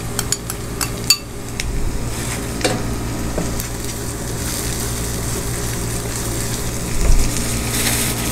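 Green chilies fry in hot oil with garlic and ginger, a steady loud sizzle with a few sharp utensil clicks and taps near the start and a brief scraping stir later.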